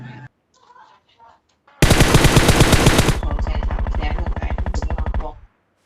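Rapid automatic gunfire from the PUBG video game: a loud sustained burst of several seconds, then a slightly softer continuing stream of shots, with brief speech before it.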